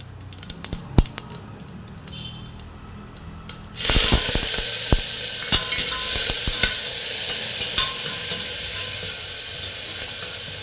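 A few scattered clicks and pops of mustard seeds, then a loud, sudden burst of sizzling hiss as ginger garlic paste hits hot oil, crackling steadily with occasional taps of stirring.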